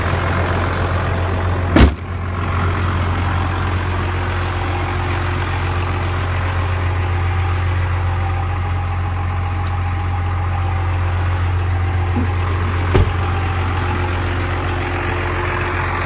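A cold 1995 Dodge dually pickup with a Cummins 12-valve diesel idles steadily and loudly up close, a constant low rumble with two brief clicks and no talk.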